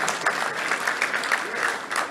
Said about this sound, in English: Let's give a round of applause for Steve East for 31 years.